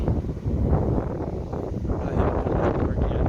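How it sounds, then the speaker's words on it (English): Wind blowing outdoors on a cloudy day near a pressure washer, a loud, steady rumbling buffet against the microphone lasting a few seconds with no speech. "A little bit windy and cloudy."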